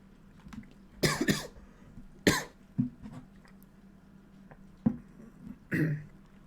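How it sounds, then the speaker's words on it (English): A handful of close, sharp coughs, some in quick pairs, separated by short quiet gaps. "Sorry, I had a bit of a cough there."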